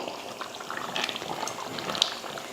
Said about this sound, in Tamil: குழம்பு வேக வச்சு பார்த்தீங்கன்னா ஒரு பத்து நிமிஷத்துக்கிட்ட ஆயிடுச்சு